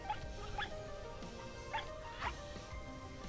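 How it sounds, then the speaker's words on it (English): A fox in the video game RiME gives a few short yipping, dog-like barks over a steady game soundscape, spaced out and moderately faint, with no talk. "The fox barks like a dog"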